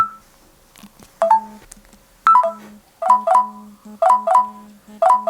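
A series of short electronic chime tones from a Garmin Fenix 8 smartwatch, rising and falling melodic beeps in quick clusters, clear and close with brief silences between.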